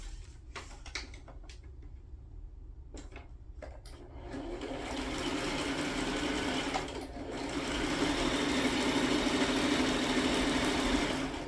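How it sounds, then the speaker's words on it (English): A sewing machine stitches steadily, its running hum growing louder and fuller partway through after a few brief clicks and knocks at the start, with no talking. "I'm going to sew"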